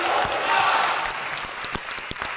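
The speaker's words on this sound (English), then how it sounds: "Let's give our brother Mayor Rajay Baraka a huge warm round of applause" An audience applauds Mayor Ras Baraka at a community family meeting, a crowd clapping that fades into scattered individual claps toward the end.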